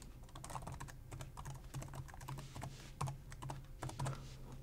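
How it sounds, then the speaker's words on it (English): Steady typing on a computer keyboard as an SSH command is entered, a continuous close patter of key clicks with a few louder strokes, no voices. "We could type the SSH command as usual."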